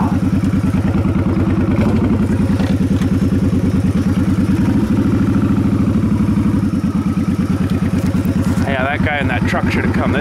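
A motorcycle engine runs continuously nearby, a loud steady drone with a rapid pulsing throb and some mechanical clatter, staying strong throughout with faint background noise near the end.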